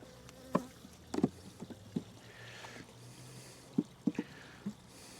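Honey bees buzz and drone around a small hive colony in a soft, continuous hum, with occasional close wingbeats and light tapping knocks nearby.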